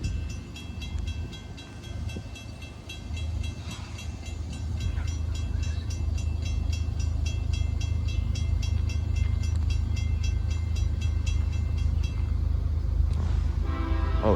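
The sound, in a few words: CSX freight train passing in the rain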